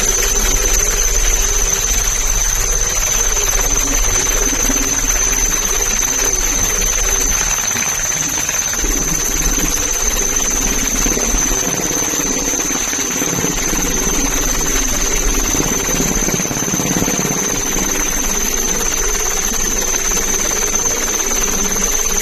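A coast guard helicopter flying on a sea search and airlift for missing fishermen gives a loud, steady rotor and engine drone with a constant high whine, close and unbroken throughout.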